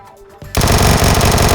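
A Vector submachine gun fires a loud, rapid continuous burst in PUBG, the steady stream of shots starting abruptly after a quieter moment and running to the end.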